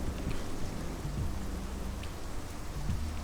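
Steady rain pours down in the video game Yoku's Island Express in a continuous, dense hiss, with a faint low rumble underneath and no voices.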